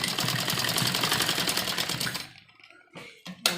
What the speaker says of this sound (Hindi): पीछे के पीस पे भी हमें इसी तरह दबी सिलाई लगानी है